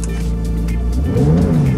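A 2018 Porsche 911 Targa 4S with sport exhaust revs up close, a steady engine drone climbing in pitch into a rising rev partway through, loud and alone.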